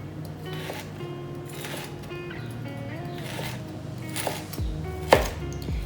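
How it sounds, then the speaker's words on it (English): Beef liver chopped with a knife on a board, a run of close, soft repeated cuts and taps with a sharper knock near the end, and some faint background noise. "Now, you can chop it as little or as big as you feel like you can swallow."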